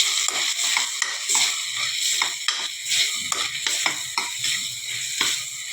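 Drumstick masala curry being stirred in a pan after chili powder goes in, with steady sizzling under repeated scraping strokes of a spoon against the pan, close and continuous with no voices.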